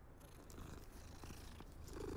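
A cat in the video game Hogwarts Legacy purrs in a soft, continuous rumbling drone for a couple of seconds, faint and steady with no speech over it.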